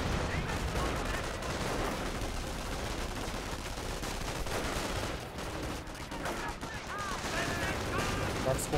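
Dense Company of Heroes battle din with a Panther tank's cannon firing on a rifle squad, blasts and gunfire layered continuously at steady loudness beneath a commentator's voice.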